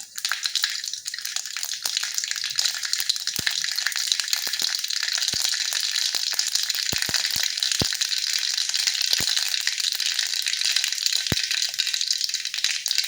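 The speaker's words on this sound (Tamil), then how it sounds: "கடுகு நல்லா பொரிஞ்சிச்சு." Mustard seeds splutter and crackle in hot oil, a dense steady sizzle packed with sharp pops, close and continuous with no talking.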